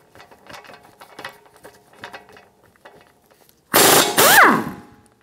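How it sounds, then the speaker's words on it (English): Ratchet with a 19 mm socket loosening the lower ball joint nut on a 2013–2017 Honda Accord, a string of quiet clicking ratchet strokes followed by a loud, brief burst from a power tool near the end. "Using a 19 millimeter socket, remove the lower ball joint nut."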